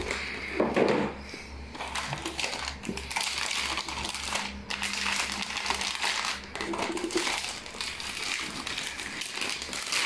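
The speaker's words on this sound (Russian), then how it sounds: "Значит, упакован он в пакет целлофановый." A musical talking alphabet toy poster from Play Smart being unpacked from a cellophane bag, with continuous close crinkling and rustling plus occasional handling knocks, and no speech.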